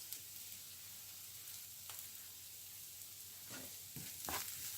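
Curry leaves hit hot oil with frying onions in a pan for garlic sambal, a soft, steady sizzle with a few brief crackling bursts and a louder spit near the end.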